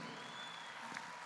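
A concert audience gives an ovation of steady, dense clapping heard at a distance and fairly faint, continuous through the moment.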